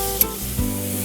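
Minced meat sizzling in a hot pan while being stirred for a cheesy keema with peas and potatoes, a steady soft hiss with light scraping and a small clink near the start.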